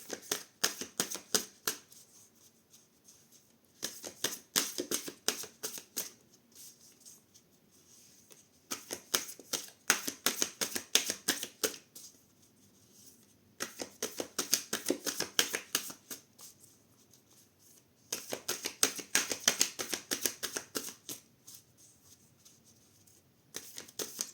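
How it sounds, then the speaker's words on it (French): Oracle cards are shuffled in repeated quick, papery riffling bursts separated by short pauses, fairly quiet and close, with no voices. "Allez, on fait sauter une carte. Une carte qui saute."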